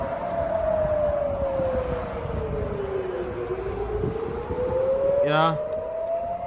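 Rocket warning sirens wail across Tel Aviv as residents take cover on a highway, a long steady siren tone that slowly falls then rises again, with a brief voice speaking over it near the end.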